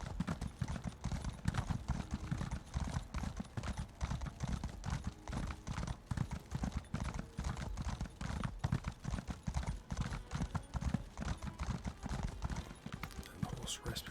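Horse hooves clip-clop steadily in the video game Elder Scrolls Online: Elsweyr, a continuous rhythmic trot that stays prominent throughout, with occasional faint neighs mixed in.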